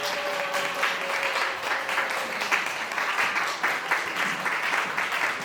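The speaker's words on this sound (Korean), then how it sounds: "큰 박수 주세요." Steady applause from a school chapel audience welcoming a university administrator onto a talk stage, dense and continuous clapping throughout without a break.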